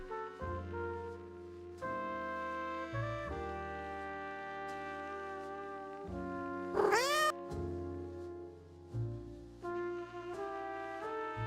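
A cat meows over a steady, tonal musical backing in a livestream alert, with one sharp rising yowl near the end; loud and close, with no one talking.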